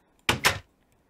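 A wooden door opening in the Minecraft video game, heard as two quick, loud, close clicking clacks in fast succession with silence on either side.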